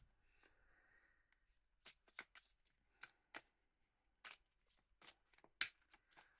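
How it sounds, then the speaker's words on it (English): Tarot cards being shuffled in crisp, snappy bursts, a quick flurry of riffles with short pauses between, close and clear in a quiet room. "while I shuffle the tarot"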